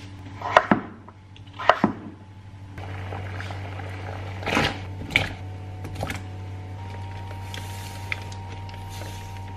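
A knife cuts through butternut squash in a few crisp, separate chops, some close together, over a steady low kitchen hum, with quieter knocks and scraping in between.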